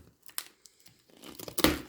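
Packing tape torn off a toy package, a few short ripping pulls with crinkling, quiet and close, ending in a louder, longer tear.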